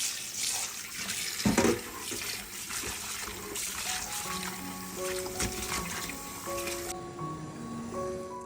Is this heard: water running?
yes